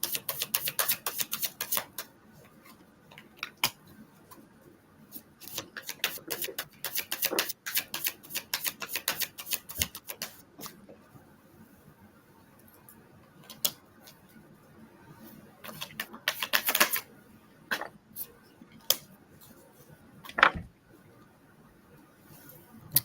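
Cards being pulled out and laid down for a psychic reading give scattered, crisp clicking and tapping sounds in quick irregular clusters, near and fairly quiet, with brief pauses between.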